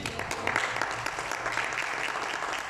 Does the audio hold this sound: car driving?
no